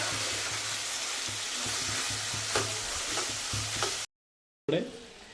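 Masala with turmeric and desi tomatoes sizzles on a low flame for a sandwich filling, a continuous frying hiss broken by stirring scrapes, then a sudden silence before the sizzle returns.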